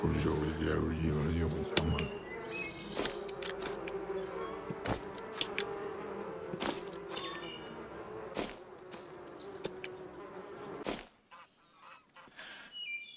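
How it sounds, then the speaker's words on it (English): Bees humming on a farm, a steady buzzing drone under scattered knocks and clicks that fades out near the end. "Glenn considers the sound of bees humming as noise."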